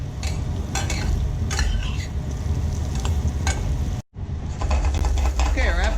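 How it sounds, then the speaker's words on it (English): Apple pieces sauté in butter in a pan, giving a close, continuous low sizzle with intermittent clinks and scrapes of a utensil against the pan and a brief break partway through. "our apples have been sauteing for a couple of minutes."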